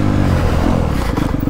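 A 2022 Honda CRF250R four-stroke dirt bike engine revs freely on a woods trail loop, loud and close, with a continuous buzzing drone that climbs into a rapid pulsing rhythm near the end.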